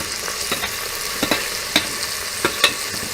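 Finely chopped red tomato and ginger-garlic paste fry in oil for a Khandeshi mutton curry, giving a constant sizzle broken by sharp spoon scrapes and clinks at irregular intervals.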